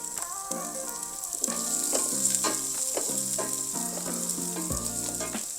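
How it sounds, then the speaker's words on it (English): Onions sizzle steadily in a hot pot for lentil soup, a bright continuous frying hiss with stirring scrapes, while background music plays underneath. "I'm going to start with the onions. So I'm just going to fry these up a little bit, saute them"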